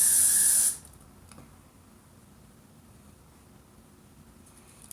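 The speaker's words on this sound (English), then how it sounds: "for this part that's sticking out, you just spray it, turn it, and roll it" Hairspray hisses from an aerosol can onto a section of hair for a pageant style in one loud burst lasting under a second, then stops and leaves quiet room tone.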